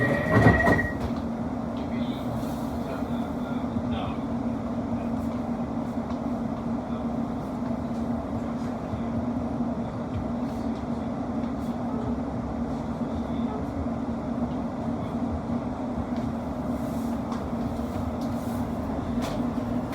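A Class 701 South Western Railway train runs between London Waterloo and Windsor & Eton Riverside, heard from on board as a steady, close rumble with a constant low drone and faint wheel squeals, and no talking.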